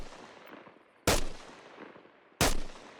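An FN SCAR rifle fires in the video game Arma Reforger: two loud, sharp single shots about a second apart, each with a brief echoing tail over a low ambient hiss.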